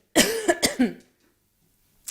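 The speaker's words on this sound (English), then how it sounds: "he's making me want to cough" A person coughs a few times in a quick, close burst, followed by silence and a faint short sound at the end.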